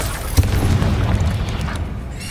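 A fiery Incendio spell bursts in Hogwarts Legacy with a deep booming blast and a rumbling low roar that lingers for a couple of seconds, loud and close with no talking.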